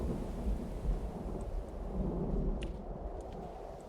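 A monsoon thunderstorm in the Songs of Syx video game brings deep, continuous rumbling thunder over a hiss of steady rain, with no voices.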